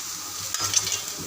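Soybean chunks frying in oil in a pan, a quiet, steady crackling sizzle with a couple of small stirring clicks, close by and brief.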